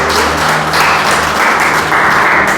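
Church congregation applauding during an evening service, a steady, dense wash of clapping that fills the whole stretch at close range with no voices on top.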